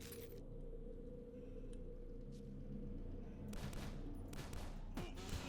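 Gunfire from a boomstick shotgun in a dungeon video game against chainsaw maniacs and mutant rats, heard as a few sharp bursts over a steady low rumble, loudest near the end.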